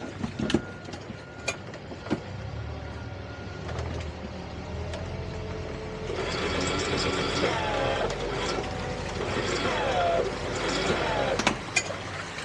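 Tow vehicle engine pulling forward to free a grounded 28ft Cutwater boat, a steady engine drone that swells and grows busier midway, with occasional knocks and clunks over it.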